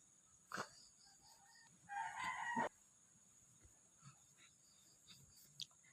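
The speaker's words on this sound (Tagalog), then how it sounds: "Parang manok." A rooster crows once, a fairly loud, drawn-out call heard at some distance over a quiet morning background, with a few faint clucks before and after.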